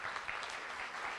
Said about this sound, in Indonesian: Beri tepukan lebih keras.